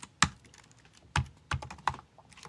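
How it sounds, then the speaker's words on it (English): Typing on a computer keyboard, a few sharp separate key clacks spaced irregularly, close and fairly loud against quiet background, with no talk. "Ah, my keyboard."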